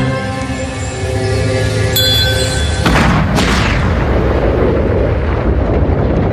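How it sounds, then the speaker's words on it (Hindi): A massive, deep rumbling blast that roars and swells, with a drawn-out wash of low noise rolling on after it, loud and sustained. "इतना एंटी मैटर नहीं है कि उसमें ऐसा विस्फोट हो सके"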